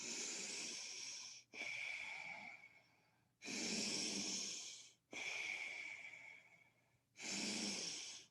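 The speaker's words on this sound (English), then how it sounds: "Do the nostril breathing, deep breaths, inhaling to the count of 5 or 6, longer, deeper, slower breaths than what you normally take." Deep, slow breaths drawn in and out through the nose, heard as long airy hisses, about five inhales and exhales in an even rhythm, close and clear with no talking.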